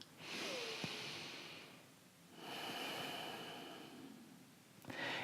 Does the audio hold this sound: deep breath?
yes